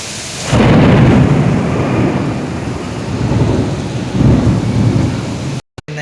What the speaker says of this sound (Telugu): చూడండి బాగా పాపం వర్షం పడుతుంది.